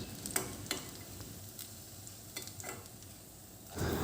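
Nendran banana slices fry for pazham roast, a low steady sizzle broken by a few light clicks and scrapes, close and faint, with no talk.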